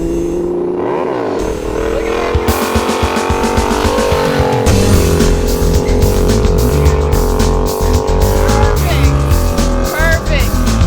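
A motorcycle engine revs loud and close with a steady roar and shifting pitch as the rider pulls a wheelie, filling the whole stretch with constant engine noise.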